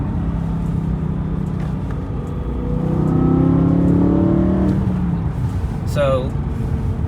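A BMW E92 M3 engine with its stock exhaust revs up and settles, a deeper, quieter rise and fall with a short sharp sweep near the end.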